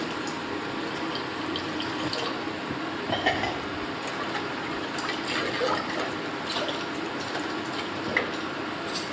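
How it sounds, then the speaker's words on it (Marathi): Continuous rushing, bubbling noise of water poured into a pot of cooked masala to make gravy for cabbage kofta curry, fairly steady with a few small clinks. "आता यामध्ये आपण पाणी टाकूया रस्सा करण्याकरिता"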